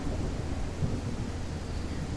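Thunderstorm effect on an amusement ride, a dense, steady rumbling roar of thunder and rain that fills the whole stretch at close, even loudness with one slightly stronger swell midway.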